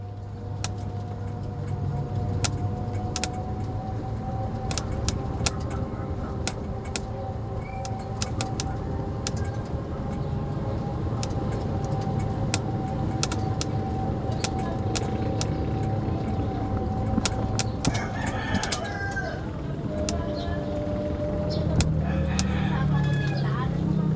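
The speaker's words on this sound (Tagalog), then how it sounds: "Dahan-dahan muna tayo mag-drive." A car drives slowly with a steady low engine and road hum, while faint bird calls and scattered light clicks sound over it.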